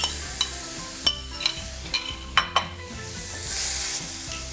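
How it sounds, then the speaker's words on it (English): Onion and mushrooms sizzle in a hot pan while a utensil stirs them, knocking against the pan in several sharp taps over a constant frying hiss. "Add the onion to the pan with the mushrooms and cook."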